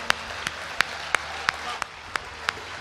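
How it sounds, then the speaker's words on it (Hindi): An audience at a Hindi poetry recital claps for the poet in slow, evenly spaced rhythmic beats, about nine sharp loud claps in unison over a quiet room background. "एक बार जोरदार तालियां बजाकर मुझे मन दीजिए।"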